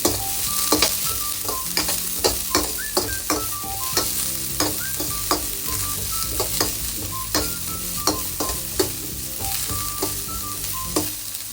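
Chopped onions sizzle and fry in hot oil with garlic in a pan for lemon rice, a steady crackling hiss broken by frequent sharp clicks of a spatula stirring and scraping, close and continuous with no talk.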